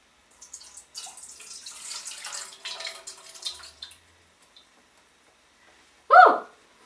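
Water poured out of a disposable face mask, heard as a single short splash near the end, after a stretch of quiet rustling and handling noise.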